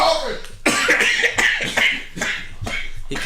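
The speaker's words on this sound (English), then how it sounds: "Look, I'm coughing." A person coughs repeatedly in harsh, close bursts, several rough coughs in quick succession with brief gaps between them.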